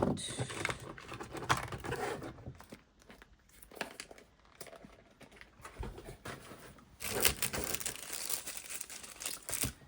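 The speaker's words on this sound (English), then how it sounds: "Put those in this box. Tape it shut." A cardboard packing box holding a crystal order is taped shut. Crinkly tape peeling and tearing comes in close bursts with scrapes, and a quieter stretch sits in the middle. Nobody speaks.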